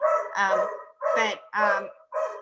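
Four sharp barks in quick succession from dogs that can see rabbits outside, fairly close and loud, with short gaps between them.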